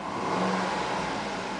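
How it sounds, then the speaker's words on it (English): A 2008 Cadillac Escalade SUV engine revs up from idle with 62,495 miles on it, a broad, steady roar that is close and loud for the whole short stretch with no talking. "I'm gonna rev it."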